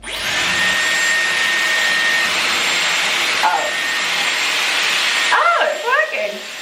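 A Dyson Airwrap hair styler with a curler attachment blows a loud, steady whoosh with a high whine, shifting slightly in tone partway through, while someone talks over it near the end.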